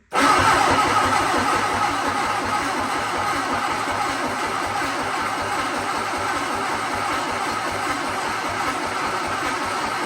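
A Sunbeam Alpine engine is cranked by its starter without catching, giving a steady, close, rhythmic churning that runs unbroken for the full ten seconds with no voices.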